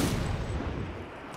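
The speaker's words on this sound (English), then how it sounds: "Cover me, I'm going to blow it up." A detonated charge explodes in Zombie Army 4: Dead War, a deep, heavy boom whose low rumble rolls and fades over about a second and a half.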